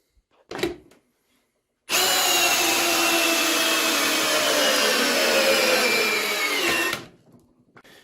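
Ryobi cordless drill driving a 12 mm by 16 cm screw into a wooden beam, one brief bump and then a loud, steady, high motor whine that holds for about five seconds before cutting off.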